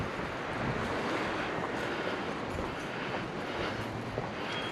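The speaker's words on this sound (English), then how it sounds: "it's also getting windy here" Steady outdoor wind roaring across a microphone at a hose bib repair site in Tempe, Arizona, a broad constant rush with slight gusting swells and no talking over it.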